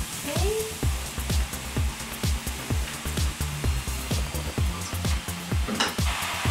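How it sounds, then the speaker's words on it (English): Mushrooms are added to onion frying in a pan, giving a continuous sizzle with repeated thumps and scrapes of stirring, while a voice is faintly present. "And now I'm gonna add mushrooms to my onion."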